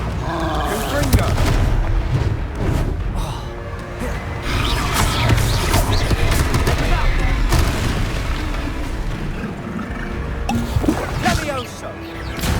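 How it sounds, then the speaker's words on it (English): Confringo spell explosions in Hogwarts Legacy, booming fiery blasts under a continuous bed of combat noise, with a voice casting spells over them. "Confringo!"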